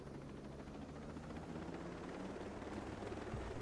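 Helicopter in the Ghost Recon Breakpoint video game, a steady broadband rotor and engine rumble that holds evenly throughout, fairly loud and continuous with no talk over it.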